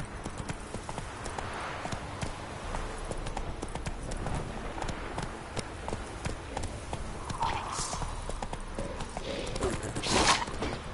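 Roach, a horse in a video game, gallops in a steady rapid clip-clop of hooves, close and continuous, with faint game effects and a brief whoosh near the end.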